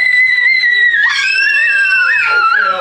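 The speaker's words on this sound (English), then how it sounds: "Listen to them scream." On Christmas Eve, children scream loudly and excitedly right next to the recorder in long, high, sustained shrieks with rising and falling pitch, filling the whole stretch.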